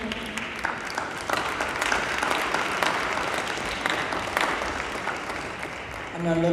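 A memorial celebration-of-life audience claps to welcome the next speaker, dense sustained applause running several seconds at a steady level, with a voice starting up near the end.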